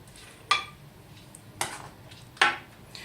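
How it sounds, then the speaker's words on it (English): Hot parsnip and carrot soup is ladled into a glass blender jug, with three distinct clinks of the ladle against the glass spaced about a second apart over quiet room tone. "you're going to ladle it into the blender"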